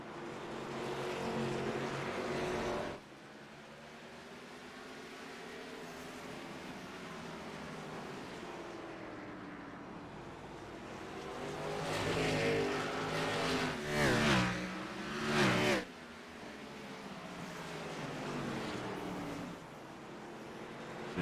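ARCA stock cars race at Nashville Fairgrounds in a sim racing game, engines droning steadily with a louder surge of revving passes midway, no talk.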